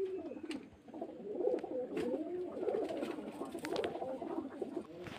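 Pigeons kept for sale coo continuously in a soft, overlapping chorus close by, with a few faint clicks and clatters in the background.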